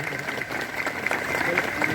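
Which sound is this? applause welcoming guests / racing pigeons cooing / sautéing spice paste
applause welcoming guests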